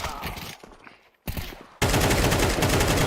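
Counter-Strike 2 gunfire opens with scattered shots, drops out briefly, then gives way to a dense, loud stream of rapid automatic fire that fills the final second and a half.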